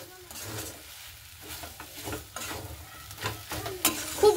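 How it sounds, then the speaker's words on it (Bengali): A banana flower curry with coriander powder and garam masala is stirred and tossed in a pan, with continuous scraping and clatter over a moderate sizzle, close and busy throughout. "তো দেখুন সবগুলোকে আমি খুব ভালো মতো করে নাড়াচাড়া করে নেব।"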